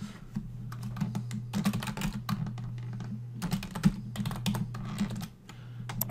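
Password keys tapped on a computer keyboard, a steady run of close, crisp clicks in quick irregular bursts with brief pauses, over a low constant hum and with no talking.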